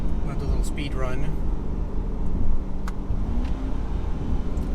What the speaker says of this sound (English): So I'm going to downshift a little bit here. I'm going to do a little speed run.